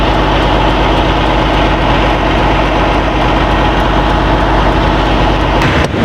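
Truck sitting at idle while washer fluid is sprayed onto the windshield with the wipers running; a steady, loud engine drone dominates, with a brief sharp disturbance near the end.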